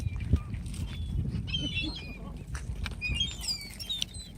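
Seagulls flap and cry close by as people toss them food beside a car, with scattered high squawks and wingbeats over rumbling wind and low background voices.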